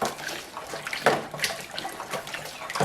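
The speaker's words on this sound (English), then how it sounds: "I'm stirring it. It doesn't all get mixed in totally, but I'm giving it definitely a good stir" Bentonite gets stirred into water in a container while starting a wine kit, with soft sloshing and swirling of liquid and a few sharper splashy knocks from the stirring.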